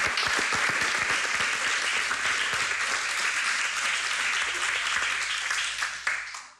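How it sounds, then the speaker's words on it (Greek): A studio audience at a televised tribute to rebetiko song breaks into dense, sustained applause, many hands clapping at once for several seconds before the sound thins and tapers off. "Θα σας χειροκροτήσω άλλη μια φορά."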